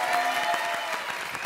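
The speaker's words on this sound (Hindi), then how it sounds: "ताली बजाओ।" A comedy show audience clapping, dense steady applause from a crowd, loud and continuous throughout the short stretch.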